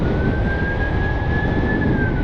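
A police car or ambulance siren wails steadily in a long, sustained tone, with no talk, heard in windy open air at a field where a high-wing RC plane is flying.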